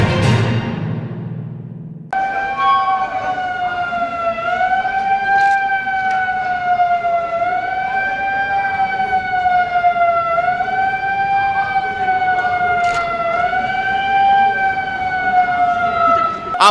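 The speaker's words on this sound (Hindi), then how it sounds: "आप सीधे सुनिए उस सायरन को कि किस तरह से सायरन बजा के लोगों को अवेयर किया जा रहा है" A civil defense warning siren in Bhagalpur wails loudly and steadily, its pitch slowly rising and falling in long waves, following a brief burst of other noise at the start.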